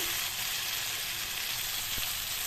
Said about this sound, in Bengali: ভালো করে কষিয়ে নিচ্ছি ভালো করে কষিয়ে নেব